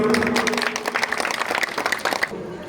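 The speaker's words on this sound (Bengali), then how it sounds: "জোরে করতালি" A crowd claps at an outdoor welcome ceremony for a local Trinamool Congress leader, with dense, uneven clapping close by that stops abruptly near the end.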